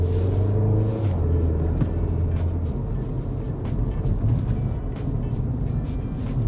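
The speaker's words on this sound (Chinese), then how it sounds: "真的引擎很好听的哈，我来录一下它的噪音值哈。" Porsche Macan engine running inside the cabin, a steady low rumbling drone with a deeper hum that shifts slightly, continuous and fairly loud with no talking.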